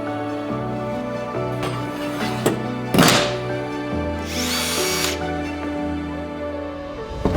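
A power drill with kickback monitoring driving a 6-inch hole saw through plywood for a cornhole board, a loud close motor whine with changing pitch and a few sharp thunks and bursts of cutting noise, no talking.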